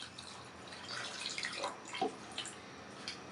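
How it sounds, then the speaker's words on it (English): Water is poured into a cooking pot of seasoned beef for ogbono soup, a soft, steady splashing and trickling stream with a few brighter drips, fairly quiet and close, with no talk. "Let's add water to cook."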